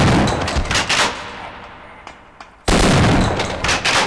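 Gunfire in the video game Half-Life: Opposing Force, loud rapid bursts of automatic shots, a quieter gap with a few faint pops, then another loud sustained burst of fire.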